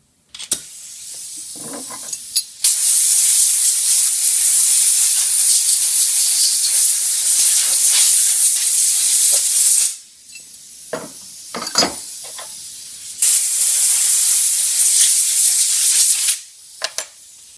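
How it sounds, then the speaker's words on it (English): Compressed air blasts across the slide plate of an on-car brake lathe in a workshop, a loud, steady hiss in two long bursts with brief clicks and clunks of handling in between. "I'm going to give that a quick dust with the compressed air"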